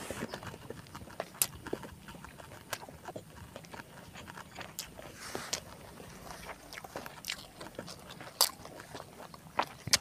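Close, crisp crunching and chewing of rice with dry, crunchy fried sambal and home-caught eel, irregular bites and soft clicks repeating throughout, quiet with no talking.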